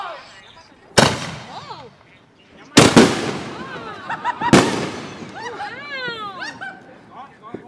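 Handheld fireworks fired at a New Year celebration: three sharp loud bangs a second or two apart, each followed by crackling and whistling sparks, with excited voices talking and exclaiming throughout.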